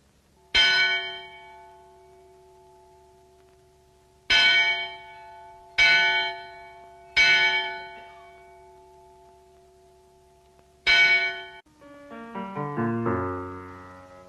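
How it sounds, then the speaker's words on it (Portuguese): Church bells tolling slowly, five heavy clanging strikes at uneven intervals, each ringing out and decaying, followed by a descending run of lower, softer bell tones at the end. "Os sinos vão dobrar para você."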